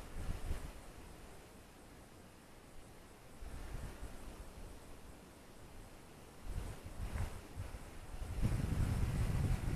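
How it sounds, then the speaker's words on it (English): Gusty outdoor wind buffets the microphone in low rumbling surges that swell and fade, loudest near the end, with no talking. "we got a little bit of wind today"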